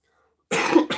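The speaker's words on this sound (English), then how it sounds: "I've been coughing" A single close, sharp cough bursts out after a half second of silence, followed by a brief second cough.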